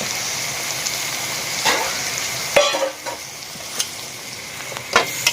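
Mutton curry with broad beans frying in a pan, a loud close sizzle that hisses steadily, with a few scraping stirs and small pops breaking through.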